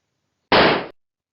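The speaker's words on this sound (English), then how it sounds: "then you're ready to fire your next shot" A single target rifle shot fired on a range, one sharp loud crack with a short decaying tail, standing alone in silence.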